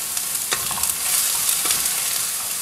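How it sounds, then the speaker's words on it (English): Cauliflower, onions and garlic sizzling in a hot pan while being stirred, a dense steady hiss broken by a couple of clear spatula scrapes and knocks, close and without talk. "we want to give this a good stir because we want the cauliflower to all get mixed in with the onions and the garlic"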